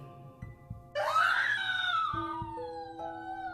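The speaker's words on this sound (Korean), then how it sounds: "찢어질 듯 비명을 지르며 귀를 막았다" A woman lets out a long, piercing scream of horror, rising sharply and holding loud before trailing off, with low rumbling tones beneath in a Korean horror radio drama set in an old Japanese-era house.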